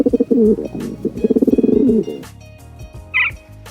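A pigeon coos in a rounded, repeated low call over about two seconds, close and fairly loud, followed by quieter cooing and a brief higher chirp near the end; no talking.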